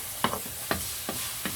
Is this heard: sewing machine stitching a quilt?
no